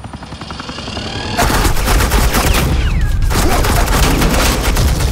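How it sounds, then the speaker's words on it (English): Sustained suppressing gunfire with a helicopter in the Batman: The Enemy Within game, loud rapid bursts rattling continuously after a quieter mechanical whir, with a brief whistling sweep in the middle. "This is Agent Quinn, suppressing fire."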